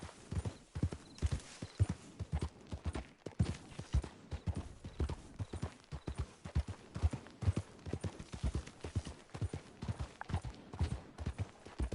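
Horse hooves clip-clop steadily in Red Dead Online as a horse is ridden at pace, giving a fast, even rhythm of close hoofbeats with no talk over them.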